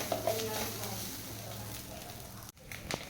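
Grated coconut stir-fried in a pan until golden, giving a steady low sizzle with light scraping strokes throughout and a brief dropout near the end before the frying noise returns.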